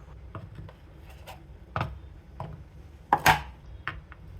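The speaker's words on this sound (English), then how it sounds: "So I'm just gonna give these a rough chop." A frozen banana is roughly chopped with a knife on a cutting board for a protein smoothie, giving scattered close, sharp knocks at irregular intervals with a couple of louder thuds.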